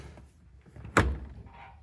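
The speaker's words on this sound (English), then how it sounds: "I'm gonna be real careful closing these back doors." A single heavy thunk as the back door of a pickup truck is carefully shut, a short, solid, fairly close impact that rings out briefly against quiet surroundings.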